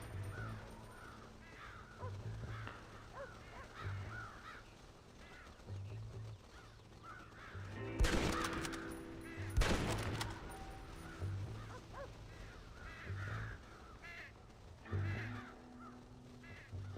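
Crows caw repeatedly in the Red Dead Redemption video game, harsh calls recurring in an irregular rhythm at moderate distance, with a louder burst of noise midway.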